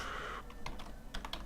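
Computer keyboard typing, a few quick keystrokes and short bursts of clicks after a brief steady hum, close and fairly quiet with no talking.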